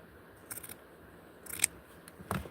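Scissors snip through fabric while cutting out a Barbie doll dress from a Vogue 7291 pattern, with three short bursts of cutting heard close up in a quiet room.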